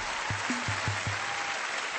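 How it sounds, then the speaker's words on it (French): Audience applause at a televised live concert after a singer finishes a song with orchestra, a steady broad wash of clapping, fairly soft and distant, with no voices over it. "reste là-haut deux secondes, profite des applaudissements, ils sont sincères"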